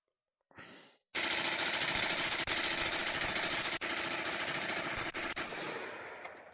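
Rapid gunfire rings out at a VRChat shooting range in a video game, a loud sustained burst of continuous automatic fire lasting several seconds after a brief mechanical rattle.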